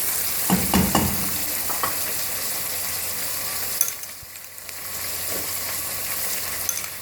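Garlic ginger paste fries over high heat in a pan for chicken shorba, giving a steady loud sizzle with a few clinks and scrapes of stirring early on, dipping briefly before the crackle returns.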